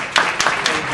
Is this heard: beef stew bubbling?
no